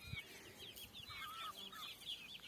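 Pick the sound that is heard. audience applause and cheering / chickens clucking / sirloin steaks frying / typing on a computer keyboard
chickens clucking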